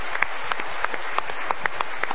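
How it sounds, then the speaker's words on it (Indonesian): A studio audience at the Indonesian talk show Mario Teguh Golden Ways claps together for about two seconds, a brisk, even patter of hands that sounds fairly close. "Oke, kita berikan tepuk tangan kalau gitu."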